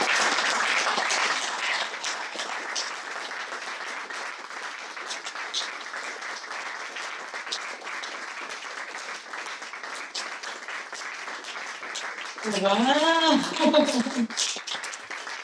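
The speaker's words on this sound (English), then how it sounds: "Round of applause." An audience at a poetry reading in an art bar gives sustained, steady applause throughout, and a voice briefly exclaims over it near the end.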